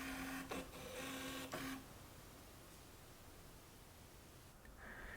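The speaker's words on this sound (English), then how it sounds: "While in autofocus mode, the lens does have a bit of noise when focusing in and out" A fly-by-wire camera lens autofocus motor whirs in two short buzzing bursts while focusing in and out, then faint hiss follows with a soft whine at the end.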